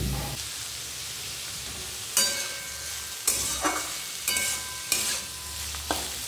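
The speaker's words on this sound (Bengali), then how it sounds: "আলু ভাজা বসালাম, মা আলু ভাজা খাবে, আলু পেঁয়াজ ভাজা" Potatoes and onions fry in a pan with a constant close sizzle. Sharp scraping stirs of a spatula cut in every second or so, and no one speaks.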